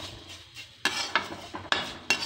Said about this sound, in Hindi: तो चलिए हम नमक को अभी मिक्स कर लेते हैं।